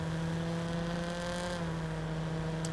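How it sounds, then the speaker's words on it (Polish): A diesel car engine in the video game Watch Dogs hums at a steady idle, a continuous low drone with a faint whir above it, heard alone. "Ładny dźwięk, powiem wam, silnika."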